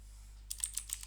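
Light keystrokes on a computer keyboard while writing Salesforce code, a quick cluster of faint taps starting halfway through over a steady low hum.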